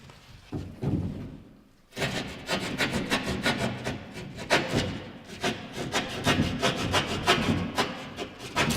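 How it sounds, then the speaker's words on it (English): A hand rasp files a drywall edge, its quick rough strokes rasping close and loud in a steady back-and-forth rhythm after a few soft knocks at the start. "These rasps, you just take and clean it off."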